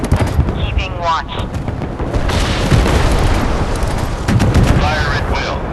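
Naval guns fire in the warship battle game Force of Warships, heavy booming blasts over a constant rumble of engine and sea, with radio-style voice lines over the action.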